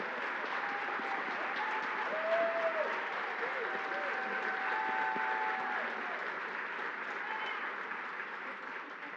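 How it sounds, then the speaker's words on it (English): A theater audience at an anniversary stage show gives sustained applause, a steady, even wash of many hands clapping with faint voices mixed in. "Yes, a big round of applause."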